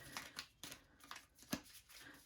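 Crystal oracle cards being shuffled by hand, a series of quiet, crisp riffling swishes and slaps in an uneven rhythm, close up and alone without talk.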